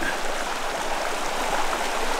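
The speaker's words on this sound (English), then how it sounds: "So we got some creek water." Creek water flowing steadily at an outdoor campsite, a continuous close rushing and trickling babble with no pauses and no voices.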